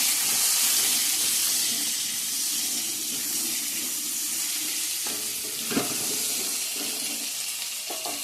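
Chopped potatoes and pointed gourd fry in a pan with onion, bay leaf and whole cumin, producing a loud, continuous hiss with one sharp clatter near the end and no voices.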